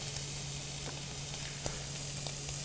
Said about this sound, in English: I want to get a nice little sear like this all the way around it